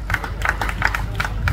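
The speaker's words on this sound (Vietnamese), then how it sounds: "xin quý vị một tràng pháo tay trước hết cho những ca sĩ" An audience at a live Vietnamese comedy and music stage show bursts into a short stretch of lively clapping, dense and close, with crowd murmur mixed in.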